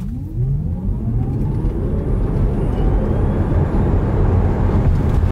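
A Tesla Model 3 Long Range RWD at 20% charge launches hard from 0 to 60 mph, its electric motor whine sweeping upward under loud, steady road and wind roar that builds throughout.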